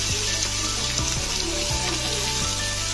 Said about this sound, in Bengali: তো পেঁয়াজগুলো আমি ভালো করে ভেজে নিই।